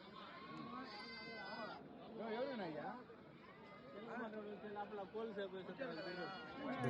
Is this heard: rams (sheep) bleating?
yes